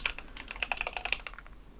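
Computer keyboard typing close up, a quick run of light, crisp key clicks in an irregular rhythm, alone for under two seconds before trailing off.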